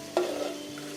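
Tomatoes drop into hot oil in a pan for a Kerala prawn roast, giving a short burst of sizzling and stirring that settles into a steady, close frying hiss.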